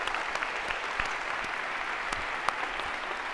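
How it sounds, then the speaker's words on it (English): Audience applauding volunteers at a live event, a steady, even wash of many hands clapping at moderate distance, continuous throughout. "A round of applause if we could for our volunteers."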